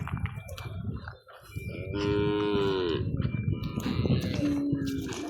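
Several cattle at the Kannapuram cattle market in Tamil Nadu moo in long, drawn-out calls one after another, loud and close, with crowd noise and faint voices in the background.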